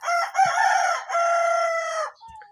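A rooster crows loudly and close by among feather-footed chickens. It is one strong drawn-out crow of about two seconds, followed by a faint short call.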